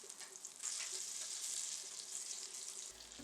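Butter melts in a pan on medium heat for a potato pie sauce, giving off a steady close crackling sizzle with no talk.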